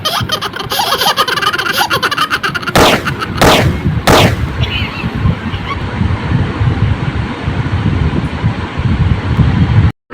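Gunshot sound effects in a comedy sketch about a teacher's online class: a dense, loud clatter of rapid firing runs throughout, with a few sharp bursts standing out, mixed with laughter-like noise.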